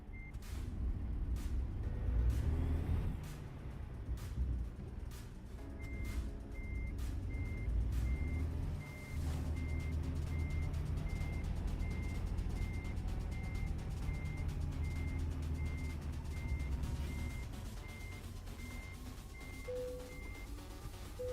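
Heavy truck in American Truck Simulator reversing toward a trailer at night, a steady series of regular reversing beeps over a low engine drone, with a few sharp clicks and a hiss of air brakes near the start.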